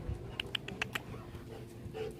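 Puppies on a tropical Colombian beach give a few short, high yelps and whimpers scattered over a steady low hum of background noise, fairly faint and without speech.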